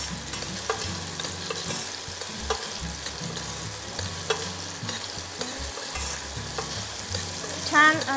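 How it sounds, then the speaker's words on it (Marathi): Raw mango pieces sauté in hot ghee, a steady close sizzle with repeated spoon stirring and scraping against the pan throughout, and no voices. "आपण फोडी घालूया आणि ह्या तुपाच्या चमच्याने जरा परतूया"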